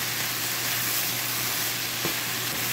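Okra stir-frying in a pan with tomato and coriander, a steady close sizzle and hiss running throughout with faint stirring scrapes.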